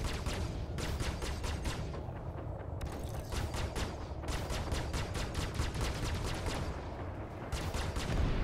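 Rapid bursts of missile and weapon fire at an enemy ship in the Star Citizen space combat game, repeated volleys of sharp cracks over a dense, steady rumble with no voices.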